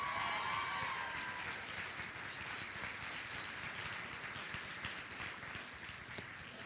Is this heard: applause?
yes